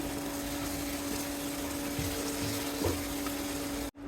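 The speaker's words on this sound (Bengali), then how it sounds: "এখন মশলাটা সম্পূর্ণ কষিয়ে নেব।" A spice paste of chilli and turmeric powder with a little water sautés in oil, a steady hissing fry with faint stirring scrapes, ending abruptly.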